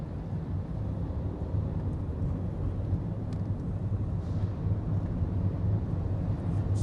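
Heavy highway traffic with loud trucks makes a continuous low roar and rumble heard from inside a car, steady throughout with a few faint higher clicks.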